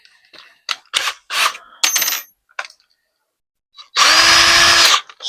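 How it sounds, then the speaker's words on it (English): A few short clicks and rattles, then a small electric drill fitted with a small bit whirs at a steady high pitch for about a second, close by, drilling into a Little Tikes Cozy Coupe toy car. "Start with a small drill bit."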